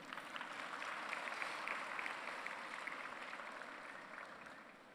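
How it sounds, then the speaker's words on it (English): An audience at a live brass band performance applauds a saxophone player. The clapping is fairly faint and distant and tapers off gradually over a few seconds. "A round of applause for Rishi Gopinath"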